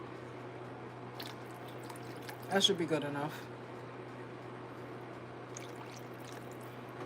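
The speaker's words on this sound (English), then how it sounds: "we're gonna add some water, and this is gonna cook down the potatoes" Water pours into a pot of curry with potatoes in one short, splashing burst lasting under a second, faint and close, with a person speaking briefly nearby and a quiet steady hum underneath.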